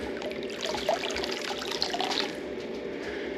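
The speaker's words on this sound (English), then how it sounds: "the water that's coming from the pipe" Water trickling from a pipe on an off-grid homestead, a soft continuous flow with small splashes and gurgles, fairly quiet with no talking.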